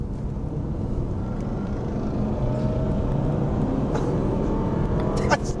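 A Jaguar XKR-S and an Aston Martin V8 Vantage accelerate hard in third gear, heard as a loud, steady engine roar from inside a car, with a rising drone and some wind rumble, alone without talk.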